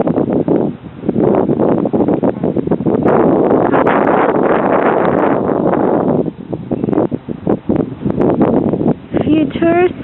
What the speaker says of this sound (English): Ooh, that's getting windy.